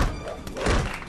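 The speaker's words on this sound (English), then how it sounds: "Creed firing off a solid blow." A solid punch lands in the VR boxing game Creed Rise to Glory, a short dull thud against a busy background of game noise.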